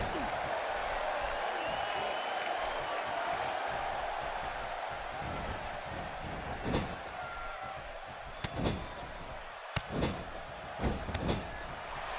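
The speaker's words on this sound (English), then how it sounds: "just listen to this Birmingham crowd as this one gets underway. They're deafening." Loud, continuous roar of a Birmingham arena crowd cheering in the WWE 2K18 wrestling game, a dense steady wall of noise with a few sharp slams and thuds cutting through near the end.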